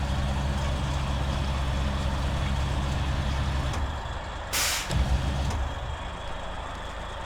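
A heavy truck engine in SnowRunner rumbles steadily with a low, loud drone, then eases off before a sharp hiss of air bursts out, followed by a brief clunk as the idle settles.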